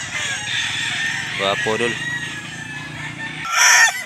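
A Kanawayon gamecock, a bullstag, crows once, close and clear, over a noisy outdoor background, and someone speaks briefly afterward.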